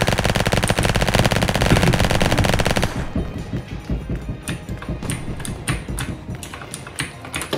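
Rapid, continuous minigun fire in a video game roars loud and dense for about three seconds, then breaks into shorter stuttering bursts and scattered impacts with no voices over it.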